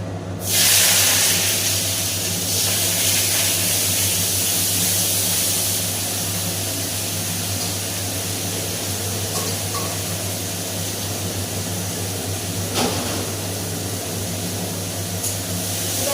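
Onions and green chillies frying in a pan, a steady loud hiss and sizzle that starts abruptly and holds evenly throughout with no talking over it.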